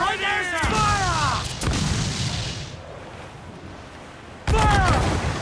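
Heavy ship cannon fire in Assassin's Creed IV Black Flag, with booming broadside volleys that roll on and decay, a lull, then another loud burst. Shouting voices ring out over the blasts.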